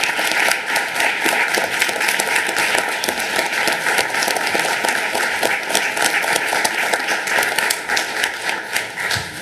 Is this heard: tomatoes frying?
no